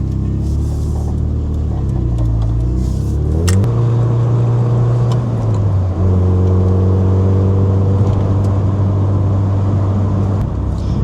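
A 1996 Nissan 240SX on the move, its engine note droning steadily, with the pitch rising and falling across gear changes as the car accelerates, loud and close from inside the cabin.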